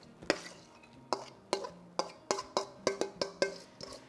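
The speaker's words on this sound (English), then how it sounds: "we are just going to stir this all together" A spoon scrapes and clinks against a bowl while squash pudding mixture is stirred, about a dozen sharp, close knocks in an uneven rhythm, with no voices.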